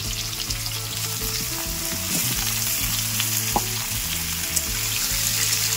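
Raw jackfruit and potatoes frying in hot oil, a steady, dense crackling sizzle holding at an even level throughout, close to the pan, with a few small pops.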